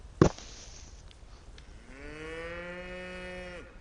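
A cow in the video game Rising World gives one long, drawn-out moo, preceded by a sharp click and soft ambient noise, heard clearly and alone without any talking.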